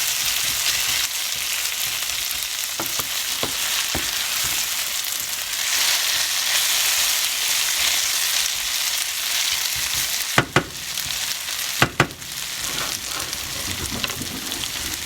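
Onions frying steadily in a pan, a dense even sizzle near and loud throughout, with a few sharp clinks of a utensil against the pan partway through and no voices.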